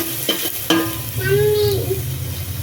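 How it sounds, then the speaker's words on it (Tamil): Small shallots sautéing in a pan for a mushroom gravy, a soft sizzle with a few spoon stirs and clinks against the pan. "இப்போ வெங்காயம் நல்லா வதங்கிடுச்சு"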